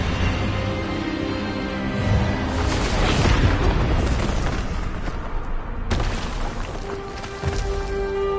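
A spell cast in the Hogwarts Legacy video game bursts out as a loud, rumbling boom that swells across several seconds and then cuts sharply into a sustained, tonal magical roar.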